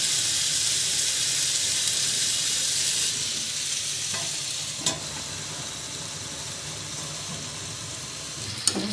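Potatoes sizzling and frying in a pan, a loud continuous hiss close by with a few faint clinks of stirring, no talking.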